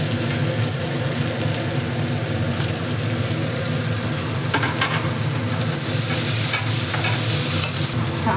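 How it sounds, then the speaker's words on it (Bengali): Garlic, ginger and other ingredients frying in a pan, a dense continuous sizzle close up with stirring scrapes and clatters throughout. "এবার আমি সমস্ত কিছু একসঙ্গে দিয়ে ভেজে নেব"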